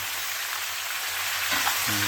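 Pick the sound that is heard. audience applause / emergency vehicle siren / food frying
food frying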